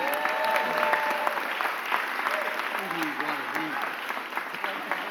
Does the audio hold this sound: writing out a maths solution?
no